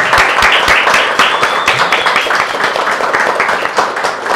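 A crowd applauds for Bruno Formiga: a dense, steady wash of clapping that stays loud and continuous throughout, with sharper individual claps standing out near the start.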